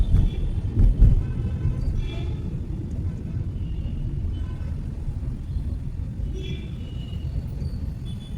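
A Hindustan Ambassador car in mint condition drives along with a steady low engine and road rumble throughout, slightly louder at the start, with faint higher noises drifting over the drone.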